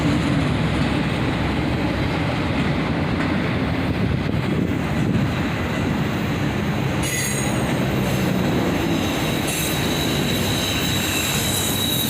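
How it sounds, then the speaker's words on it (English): CSX freight train led by an SD70MAC locomotive rolling past, a continuous loud rumble of railcars with metallic wheel squeal and rail clatter throughout, no talking. "an awesome Sd70Mac leads, followed by an ES44 ACH."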